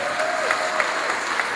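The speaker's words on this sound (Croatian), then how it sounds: "ajmo još jedan aplauz pa idem" A crowd at a stand-up comedy show applauds in a dense, steady wash of clapping, fairly loud and continuous, with a faint murmur of voices beneath.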